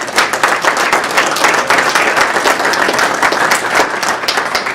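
Loud, close audience applause at a Q and A session, many hands clapping in a dense, even roar that continues without a break.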